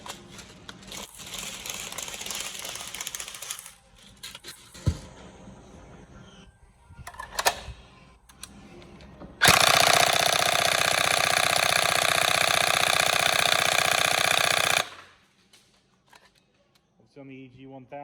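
Tokyo Marui HK416D NGRS airsoft gun with an EG1000 motor, spring upgrade and 7.4 V battery fires a fast, loud continuous burst of about five seconds after scattered quieter mechanical clicks and handling noise.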